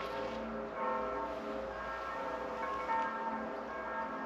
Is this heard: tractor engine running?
no